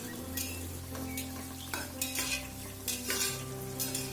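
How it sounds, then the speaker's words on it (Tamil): Sliced onions and green chillies sauté in a pan for ghee rice, with a steady close sizzle and repeated scraping stirs of a spoon against the pan. "2 நிமிஷத்துக்கு நல்லா வதக்கிக்கலாம்."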